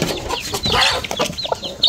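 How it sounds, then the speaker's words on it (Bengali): Chickens being let out of their coop cluck and squawk nearby in quick, overlapping bursts, loud and busy throughout. "আমি এখন আমাদের মুরগিগুলো ছাড়বো মুরগির ঘর থেকে"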